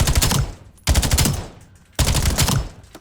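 Submachine gun fire in Black Ops 7: three loud, rapid automatic bursts, each about a second long, separated by short pauses, close and dominant with no talking.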